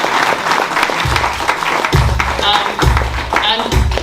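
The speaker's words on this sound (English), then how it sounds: "Ladies, can we give them a round of applause?" Crowd applause at a business ball gala, heard under loud dance music with a steady thumping beat and a voice coming through.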